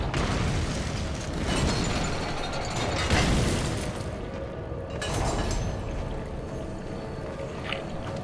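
Explosives detonate in the video game Darksiders II: several heavy, rumbling booms arrive a second or two apart over a mechanical background din, with no voice over them.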